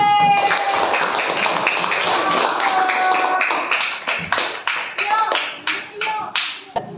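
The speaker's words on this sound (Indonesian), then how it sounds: "Tepuk tangan kelompok B." Elementary school pupils in a classroom clap for a group that has just finished presenting how to make oralit, a burst of many hands that thins into scattered, separate claps toward the end.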